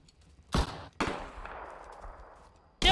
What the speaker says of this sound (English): They are shooting me!